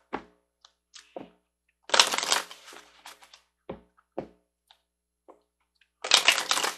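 Tarot-style angel cards riffled and shuffled in two loud bursts, separated by soft taps and card handling, close by with no talk.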